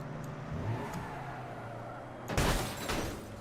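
A steady rumbling drone gives way to a sudden loud video-game car crash, a burst of impact noise with a scattering clatter that trails off.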